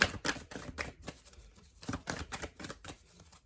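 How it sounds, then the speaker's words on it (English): A tarot card deck shuffled by hand in a few quick bursts, crisp riffling flutters repeating in an uneven rhythm, close and fairly quiet with no talk. "Let's shuffle it up"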